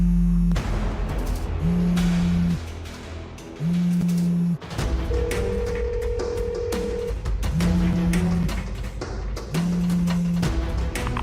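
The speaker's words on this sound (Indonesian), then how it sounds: "Kenapa Sekar malah reject telepon aku?" A telephone ringing on an incoming call in an Indonesian drama scene, repeated ring bursts in a steady on-off pattern, loud and close over a musical background.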